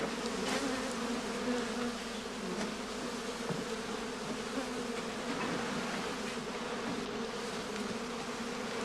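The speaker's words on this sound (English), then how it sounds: "Bees which were still out foraging will beg their way into other colonies and thereby increase their strength." Honey bees hum steadily around straw skeps in a heather apiary, a dense continuous buzz with individual bees droning past close by.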